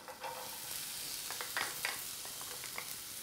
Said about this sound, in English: Then I add in the cauliflower and that's it.